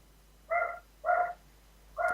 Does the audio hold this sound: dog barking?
yes